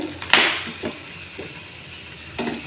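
A ragi dosa cooks on a pan over a medium flame with a soft steady sizzle and a few brief scraping and tapping sounds from a spatula, heard close and alone.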